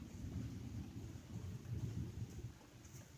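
A thunderstorm rolls overhead with low, rumbling thunder and a steady wash of rain and wind noise, the rumble swelling and fading over a few seconds.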